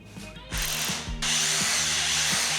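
A power drill fitted with a masonry bit bores into a wall during a home renovation: two loud, close bursts of grinding whine, with a brief dip between them and a steady low motor hum underneath.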